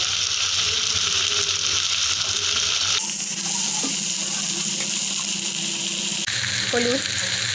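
Vegetables frying in a pan with ginger, garlic and onion paste, giving a continuous close hiss and sizzle throughout, with faint background noise.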